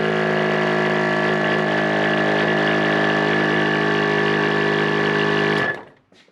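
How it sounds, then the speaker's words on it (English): An ARB air locker compressor runs with a loud, steady electric hum and whine, pressurizing the system before cutting off abruptly near the end, leaving a brief fading rattle. "I'm going to turn the compressor on and I'm going to engage the locker"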